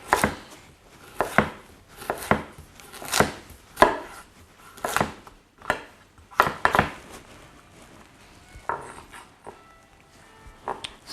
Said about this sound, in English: Just finally cutting the strips there of the carrot.